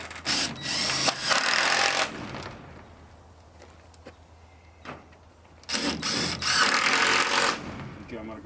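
A power drill drives screws into a greenhouse frame in two loud bursts of whining motor, one at the start and one near the end, separated by quieter handling noises.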